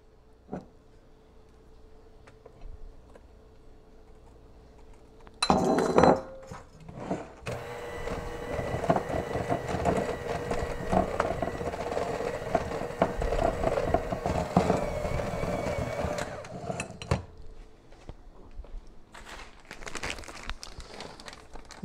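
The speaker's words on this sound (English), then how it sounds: "We'll mix that some, we'll add in the chocolate chips and mix it some more." Cookie dough for keto chocolate chip cookies is stirred in a bowl, the chocolate chips folded in; a sustained, close scraping and crinkling churn runs for about ten seconds after a few sharp knocks, then fades to light taps.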